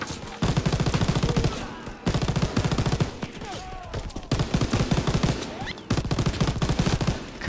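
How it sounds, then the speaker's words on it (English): Sustained machine-gun fire in the World War II shooter Call of Duty: WWII, long rapid bursts repeating at steady intervals, loud and close, with short pauses between volleys. "Stop shooting me!"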